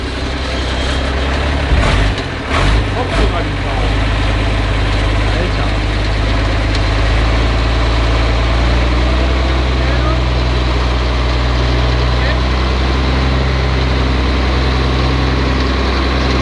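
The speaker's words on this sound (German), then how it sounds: "Unimog versus Bus haben wir heute hier." A Mercedes Unimog and a bus idle together, a steady low diesel rumble with mechanical clatter running throughout, close and loud, with a brief burst of knocking early on.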